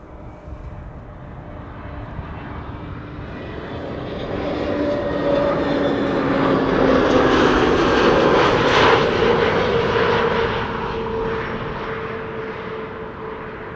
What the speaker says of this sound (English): Kuwait Airways is coming in with an A320 Neo, flight 127, arriving from Kuwait City